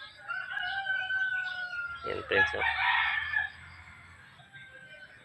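A tame bird in a backyard, fed rice, gives a clear crowing, rooster-like call at close range, with a person talking softly around it.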